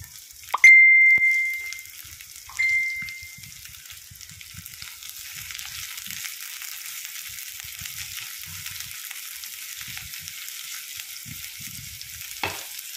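Onion tossed into a hot pan while cooking creamy milkfish with salted egg, with a sharp sizzle on contact, a second smaller sizzle, then a soft continuous frying hiss and faint stirring.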